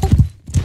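Horse hooves clip-clop in the video game Mount & Blade 2: Bannerlord, a few loud close hoofbeats in quick uneven pairs with a short gap between them.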